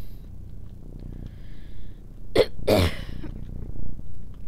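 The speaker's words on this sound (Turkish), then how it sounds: "bayağı bir öksürüyorum" Two sharp coughs in quick succession, close and loud, over a quiet low hum, from a person playing Half-Life 1.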